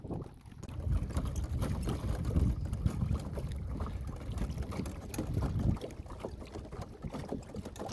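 A Minn-Kota Endura C2 30 trolling motor runs at high speed on a kayak heading into the wind. It makes a steady low churning drone, with wind buffeting the microphone and water noise mixed in.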